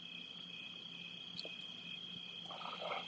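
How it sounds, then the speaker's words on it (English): Crickets chirp at night in a steady, faint, continuous high trill, with softer insect or frog calls joining near the end and no one talking. "crickets are being a little loud tonight"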